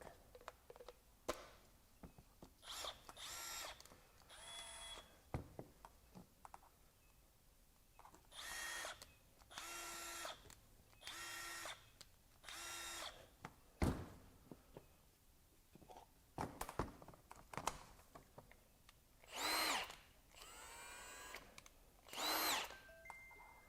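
Milwaukee and Snap-On impact wrenches firing in a series of short, loud bursts separated by pauses, each a buzzing hammering whir heard up close with no talking.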